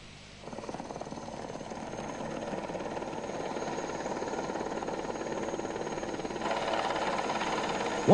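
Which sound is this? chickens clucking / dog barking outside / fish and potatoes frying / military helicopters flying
military helicopters flying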